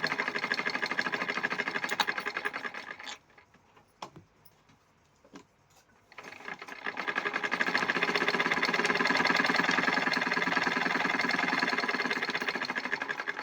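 A half-shuttle sewing machine stitching: close, fast, even mechanical whirring and clicking, running for about three seconds, stopping briefly for a few clicks, then resuming steadily and loud until the end.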